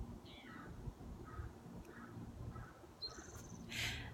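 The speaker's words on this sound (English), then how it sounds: "we'll listen to the birds while you do it." Small birds chirp faintly outdoors, with short repeated calls spaced about half a second apart and a brief louder burst near the end, all over a low, steady background rumble.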